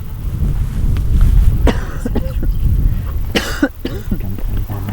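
Outdoors on a mountain pass during a botany outing, a person coughs a few times in harsh bursts close to the microphone, with wind noise and a brief voice around them.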